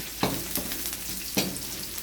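Onions hiss and sizzle in a hot pan for squid adobo, a steady close frying crackle broken by a couple of sharp stirring scrapes, with no voices.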